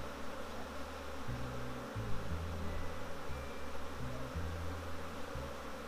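A constant low hum of honey bees buzzing inside a queenless hive, a steady drone with no voices over it and a faint background tone that swells and recedes.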